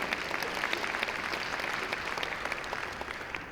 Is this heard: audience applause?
yes